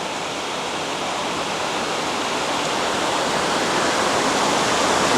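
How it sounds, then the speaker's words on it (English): The lower tier of Catawba Falls near Old Fort, North Carolina pours into a wide pond as a steady, broadband roar of rushing water, close and constant, growing slightly louder throughout with no voices. "And this is actually the lower falls."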